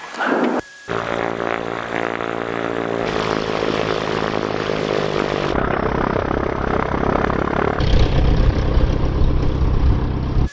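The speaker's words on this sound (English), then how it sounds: "I'm just gonna go through a full run up." A small propeller airplane engine runs up before takeoff, a loud continuous drone that shifts in pitch and intensity in several steps over about ten seconds.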